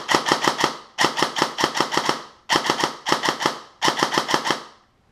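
A Systema PTW airsoft replica fires in full-auto. Several rapid bursts of five or six sharp, mechanical shots each come in quick succession, loud and close, with short pauses between bursts.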